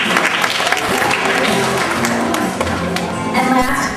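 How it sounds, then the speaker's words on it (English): An audience at a 2006 third-grade school performance breaks into loud, close, sustained applause. Dense clapping runs throughout, with a few sharper individual claps standing out and faint voices mixed in. "give one more round of applause for China"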